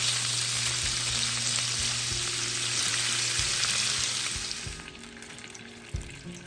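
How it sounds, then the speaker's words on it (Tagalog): Sausage stir-fries in a pan, a steady close sizzle with a few spatula scrapes and knocks that thins out toward the end. "Now stir fry the sausage,"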